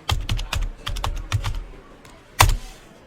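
Quick bursts of keystrokes on a computer keyboard while coding, close and crisp, in irregular clusters with short pauses and one louder clack near the end.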